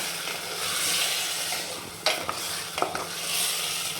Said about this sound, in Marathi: छान चार ते पाच मिनिट आपण याच्यावर एकदम मोठ्या गॅसवर आपल्याला याला छान परतून घ्यायचे